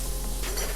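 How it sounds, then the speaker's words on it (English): Shrimp frying in a pan of very hot oil, a brief close sizzle lasting under a second with steady hissing and faint spatter. "Next, we are going to pan fry our shrimp."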